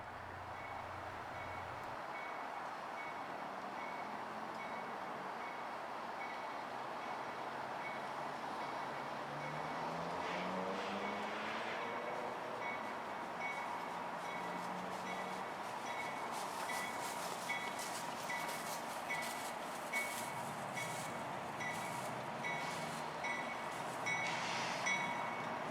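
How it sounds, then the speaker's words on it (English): Mixed freight train led by GEVO, Dash 9 and SD70ACe locomotives, rumbling steadily at a distance with a continuous wash of wheel and car noise. A faint diesel engine tone rises and falls, and high metallic squeals come late. "it sounded like it was a Gevo and a Dash 9 and a SD70 AC on the point of this mixed freight"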